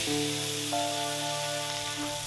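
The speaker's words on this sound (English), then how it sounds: "In a hot pan, place your steaks fat side down." Steaks laid fat side down in a hot pan, giving a steady, close, even sizzle over a constant background hum.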